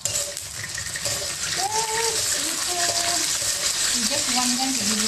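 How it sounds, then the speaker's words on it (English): Cashew nut halves frying in melted ghee for sweet rice, a steady close sizzle and hiss with faint stirring, while someone talks over it. "Fry them."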